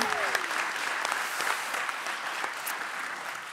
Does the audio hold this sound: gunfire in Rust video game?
no